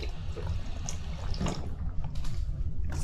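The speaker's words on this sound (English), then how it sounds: "thank God, a water fountain" Water running from a drinking fountain, a continuous close gurgling splash with faint clicks and shifts in the stream over a few seconds.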